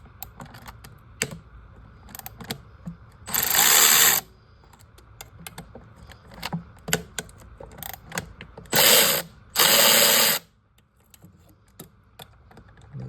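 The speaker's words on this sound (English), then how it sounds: "Then use a 8mm socket and remove these 3 bolts right here." Ratchet with an 8mm socket loosening bolts on a 2011 Nissan Versa engine, close by, with quick clicking bursts and a few longer ratcheting runs between short pauses.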